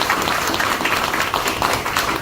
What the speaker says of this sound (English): let's give a big round of applause to Edward